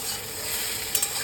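Fried rui fish being stirred into a pan of fried eggplant, potatoes and onions, a soft steady sizzle with faint scraping, low and close with no voices.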